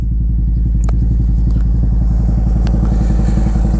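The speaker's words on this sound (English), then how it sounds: "guess what that bike is behind me, the sound, and you'll know" A big motorcycle engine idles loudly nearby with a steady, lumpy throbbing rhythm, plus a few faint clicks over it.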